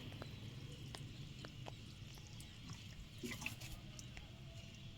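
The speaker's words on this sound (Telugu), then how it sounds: "నేను ఇలా వాటర్ పోసినప్పుడు ఈ స్టాండ్ పెట్టడం వల్ల మనకి ఎక్సెస్ వాటర్ కూడా కింద నుంచి అనేది వచ్చేస్తుంది" Surplus water drains out beneath a terrace-garden pot stand, a faint, soft trickle with scattered drips and small splashes, quiet and steady throughout.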